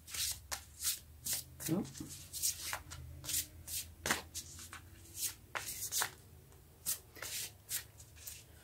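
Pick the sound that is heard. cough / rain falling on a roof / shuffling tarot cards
shuffling tarot cards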